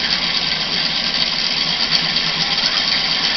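A homemade Newman motor runs in a steady, buzzing drone with fast even vibration throughout, loud and close, with no talking over it.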